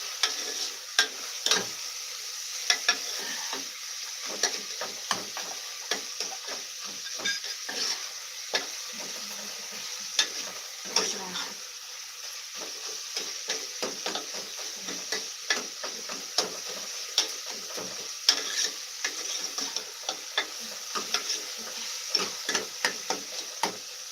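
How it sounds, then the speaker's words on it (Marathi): Chopped onion frying in a pan, stirred until reddish brown: a soft continuous sizzle carries under frequent sharp clicks and scrapes of a spatula, close and steady, with no voices. "कांदा व्यवस्थित परतून घेते मी चांगला लालसर होईपर्यंत कांदा परतायचा आहे"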